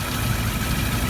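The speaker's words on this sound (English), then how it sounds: "And we're going to get the engine going." A Rover SD1's V8 engine runs at a steady, close idle, a dense low rumble with constant vibration and no pauses or voices.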